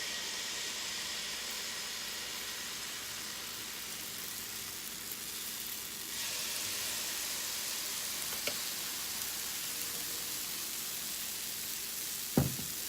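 Vegan pancakes cook on a griddle without extra oil, giving a steady, faint sizzle and hiss that holds throughout, broken by a single sharp knock near the end.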